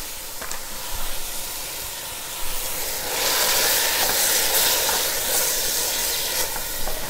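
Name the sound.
beef stir-frying in olive oil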